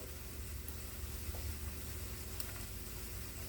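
Plantain slices with coconut fry in a pan with a steady, soft sizzle that keeps on under the faint clink of a utensil turning the pieces.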